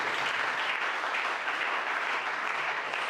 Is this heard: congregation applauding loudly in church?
yes